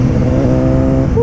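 A motorcycle with a quick shifter pulling hard in a steady high drone near the rider, loud and continuous, with a quick pitch change at the very end as it shifts into second gear.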